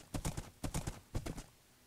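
Horse hooves clip-clop in Minecraft, a quick run of several hollow, evenly spaced hoof steps in two short bursts, fairly close and clear with no talking.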